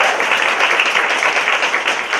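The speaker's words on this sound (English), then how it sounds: "Let's give them a big round of applause." A large audience applauds at a Toastmasters championship night in Kaohsiung. Dense, even clapping fills the whole stretch as a loud, continuous wash with no pauses.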